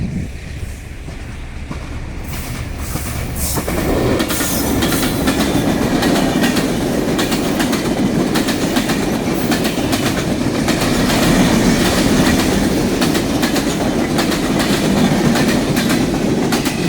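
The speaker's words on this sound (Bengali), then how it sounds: "এই যে দেখুন, ট্রেন আসতেছে কত দ্রুত।" A train on a railway line in Bangladesh rushes past close by, its loud rumble swelling after a few seconds into a sustained roar with rhythmic clickety-clack of wheels over rail joints.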